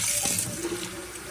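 Water pours and swirls as it is mixed with fish fertilizer for seedlings, a brief close splash and gurgle with no talking.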